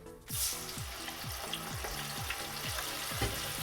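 A patty sizzles and crackles steadily in a hot pan, close up, with a continuous frying hiss and no voices.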